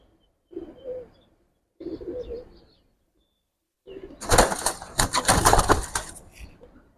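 Giribaz pigeons in a loft give two separate low cooing phrases close by, followed by a louder, longer burst of busy broadband rustling and flapping.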